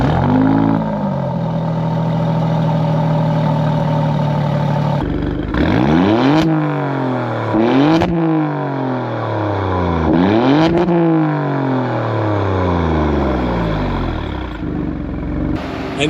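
A 2024 Alfa Romeo Stelvio Quadrifoglio engine idles loudly, then revs up repeatedly in several sharp blips with the pitch swooping down between each, close and unaccompanied by talk.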